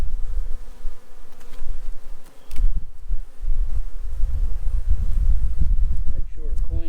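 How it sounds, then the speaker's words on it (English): Honey bees buzzing in an opened hive box, a dense, steady close-up hum with rustling and handling noises, and someone speaking over it. "I still have a lot of bees in here"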